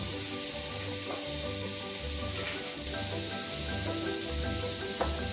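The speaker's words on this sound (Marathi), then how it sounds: "इकडे तवा घेतलाय, त्याच्यावर मी आता बटर घालती आहे." Butter sizzles steadily on a hot tawa griddle while pav bhaji is being made, a close, continuous frying hiss that gets slightly louder partway through, with no talking.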